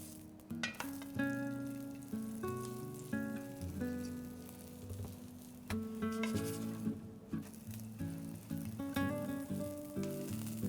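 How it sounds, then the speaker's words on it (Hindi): Stuffed ragi paratha brushed with ghee sizzles on the pan with a steady fry, while background music plays over it throughout. "पराठे को घी लगाकर दोनों तरफ से अच्छे से सेक लेंगे।"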